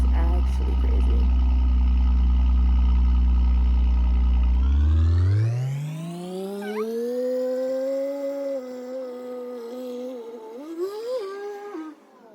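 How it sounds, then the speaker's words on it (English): A passing car gives off a loud, close, spaceship-like whir. A deep droning tone suddenly sweeps upward into a rising, wavering electronic whine that holds and then fades slightly. "Why did that car literally sound like a spaceship?"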